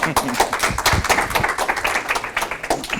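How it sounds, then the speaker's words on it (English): A small group claps for a few seconds, the sound irregular and close, with some voices mixed in. "a hand of applause then"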